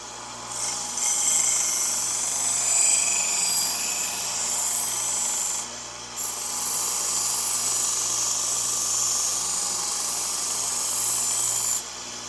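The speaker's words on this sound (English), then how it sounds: "I'm going to use the old Harbor Freight 1x30, and I'm going to use a Sunmax belt. This is a 400 grit" Harbor Freight 1x30 belt grinder running a 400 grit Sunmax belt against a knife blade, giving a steady bright hiss and rasp that keeps going with two brief dips, no talk.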